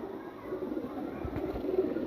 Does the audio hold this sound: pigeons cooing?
yes